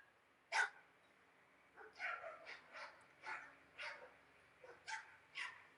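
A dog barks: one sharp, loud bark, then after a pause a longer run of about eight to ten quick barks in uneven bursts, fairly close and with no talk over it.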